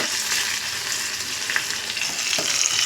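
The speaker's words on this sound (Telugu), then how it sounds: "బాగా వేగిన తర్వాత వంకాయలు వేయించుకోవాలి." Eggplant pieces frying in hot oil in a pan, a loud, steady crackling sizzle heard up close with a few faint stirring clicks and no voices.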